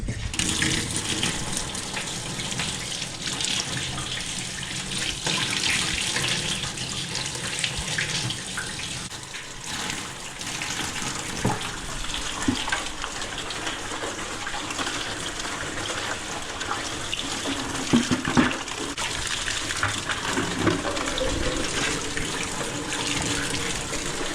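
Hot water gushes from a tap into a metal milking pail for rinsing on a farm, a steady loud splashing and filling stream that runs unbroken and close by, with no one talking.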